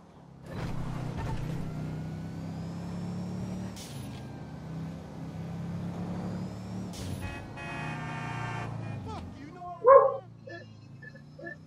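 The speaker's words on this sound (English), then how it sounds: "Sorry about that if you can hear the dog in the background" A dog barks in the background, a few sharp barks heard under ongoing game sounds, with a louder yip near the end.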